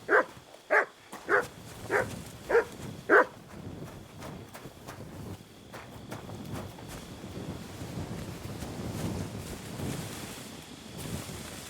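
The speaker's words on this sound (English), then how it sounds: "Aye, aye, you silly doggy." Dog barks six times in quick succession in Kingdom Come: Deliverance 2, loud and close, then fade into a steady wind-like rush with no more barking.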